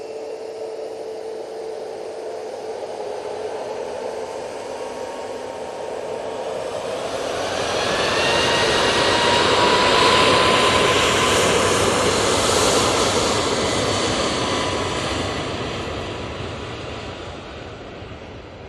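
A Boeing 737 MAX 8 jet takes off at Manchester Airport, its engine roar building from a distant whine into a loud broadband rush that peaks midway and then slowly fades as it climbs away, with no talking.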